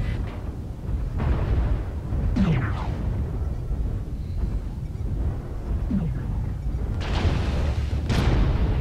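Missile explosions in the MechWarrior Online video game, repeated booms and bursts with whistling streaks, loud and layered over a constant rumbling battle background.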